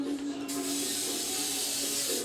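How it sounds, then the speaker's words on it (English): A close, steady hiss of an aerosol butter spray can coating a loaf pan, starting abruptly and continuing for about two seconds with a faint tonal hum underneath. "We got some butter spray on"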